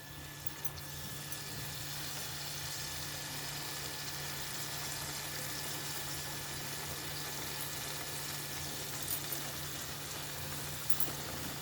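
Ginger, garlic and masala paste fries in oil for a fish curry with raw mango, a steady, soft, continuous sizzle that holds evenly throughout with no talking.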